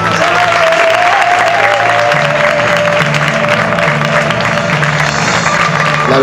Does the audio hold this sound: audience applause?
yes